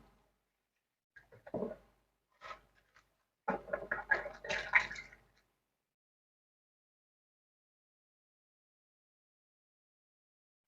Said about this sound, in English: I'm just rinsing it off.